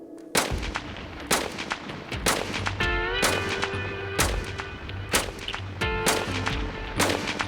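Eight rounds of artillery-style gunfire at a MythBusters test range, sharp loud blasts spaced roughly a second apart, with a brief mechanical whine rising partway through between shots.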